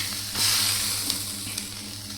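Eggs for an omelette fry in a pan with a steady, loud sizzle that crackles on throughout, no voices over it.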